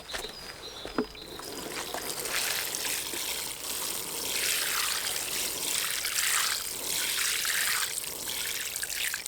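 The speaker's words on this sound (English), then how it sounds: "Alright, so now I'm gonna water it." Steady trickling and splashing of water poured close by onto the soil of a freshly repotted aloe vera plant for several seconds, a continuous soft gurgle with no talking.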